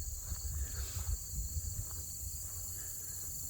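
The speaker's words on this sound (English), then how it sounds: "We got the little crickets and stuff singing, carrying on." Little crickets chirping outdoors in a quiet spot, a steady high-pitched continuous trill over low rumbling background, no voices.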